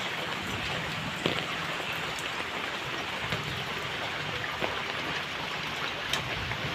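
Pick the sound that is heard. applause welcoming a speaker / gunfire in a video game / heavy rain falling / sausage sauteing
heavy rain falling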